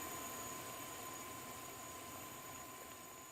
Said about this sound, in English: Bit noisy by the APU. It is a small jet engine after all.